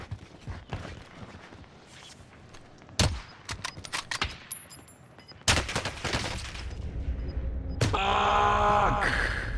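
Bursts of SMG fire in Call of Duty on Rebirth Island: scattered sharp shots, then a longer sustained burst, followed by louder explosive game effects and a rising noise toward the end.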